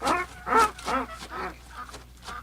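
A series of nasal, raspy duck quacks in quick bursts, fairly close, with several calls overlapping across a couple of seconds.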